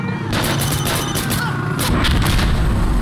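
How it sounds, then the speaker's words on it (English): Cannon fire in Insurgency: Sandstorm rips through walls with repeated loud booms and crackling impacts over a constant rumble of battle, with some voices mixed in. "that cannon's going right through that wall and it's hitting the other wall on the other side"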